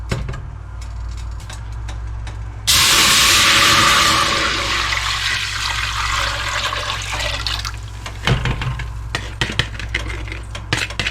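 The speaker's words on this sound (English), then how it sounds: "we're going to dump the liquid in." Liquid is poured in a heavy rush for several seconds into a pot of roasted chicken for canned teriyaki chicken and rice, followed by clinks and clatter from utensils against the pot.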